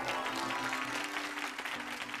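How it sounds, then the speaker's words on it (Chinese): Applause from a television studio audience on a health program, thanking a professor: a steady, dense wash of clapping that stays even and fairly soft from start to finish. "掌声感谢罗春教授"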